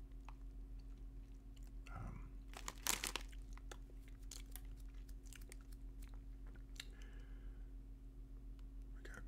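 Cheese-flavoured Cibel corn snacks, made in France, crunch between the teeth in close, quiet bites: a sharp crunch cluster near the start, then softer chewing and scattered crinkles of the packet.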